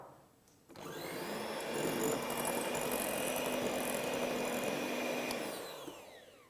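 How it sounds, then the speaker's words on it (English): An electric mixer whisks meringue with sugar for a pavlova, a steady loud motor whir starting abruptly and holding evenly for several seconds before tapering off, with no voices. "if you're a beginner, you might want to do this in a couple of batches and just whisk back to stiff between each addition"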